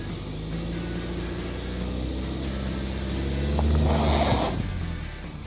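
A stuck car revving its engine while its tires spin on sticks packed under the wheel: a steady loud motor drone that swells and roars near the middle, then eases, with no talk.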